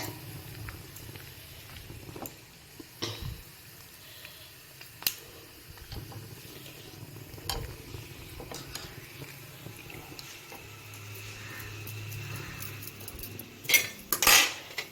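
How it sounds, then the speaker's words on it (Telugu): Small pela vadiyalu, puffed rice crisps, fry in hot oil, giving a soft steady sizzle with a few utensil clinks and stirring noises and a louder burst of crackling near the end. "మనం ఎంత చిన్న ఉడియం వేసామో ఎంత పెద్ద ఉడియం వేగిందో చూడండి"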